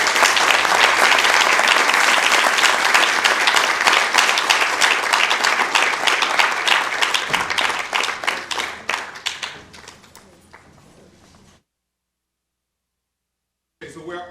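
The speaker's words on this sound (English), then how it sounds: "Please join me in giving them a big round of applause." An audience at a city council meeting in Sacramento breaks into loud, close applause that holds strong, thins out and fades, ending in silence before a brief final sound.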